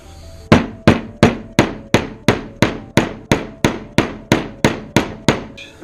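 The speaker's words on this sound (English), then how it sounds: "Use something like a socket that's the right diameter on top, just to touch it down." A socket tapped with a hammer drives a seal into a motorcycle fork during a fork rebuild: about fourteen sharp, evenly spaced metallic knocks, each ringing briefly, loud and close, with no talk.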